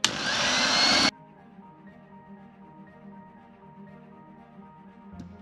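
Electric hand mixer whirs loudly as it beats sugar into cake batter for a chestnut-cream and milk-chocolate Yule log, then cuts off abruptly after about a second, leaving a quiet room.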